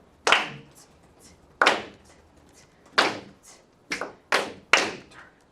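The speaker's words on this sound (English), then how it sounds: "Clap and count it" Students in a classroom clap out a rhythm: six sharp, close claps in an uneven pattern with short pauses between them, and no talking.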